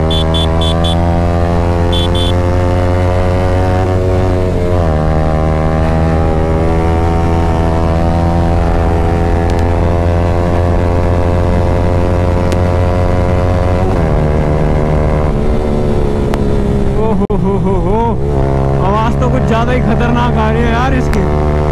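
A Yamaha MT15 motorcycle with a loud Akrapovic exhaust drones steadily while riding on a road, its engine note rising and falling through gear changes, loud and close throughout.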